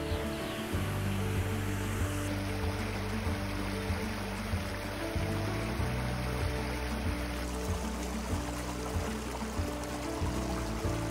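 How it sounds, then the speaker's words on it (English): A small waterfall in the ravine at Edwards Gardens park in Toronto gives a steady, even rush of falling water, continuous and unbroken throughout, with a faint constant hum underneath. "You don't need to go to Hamilton to see the waterfalls,"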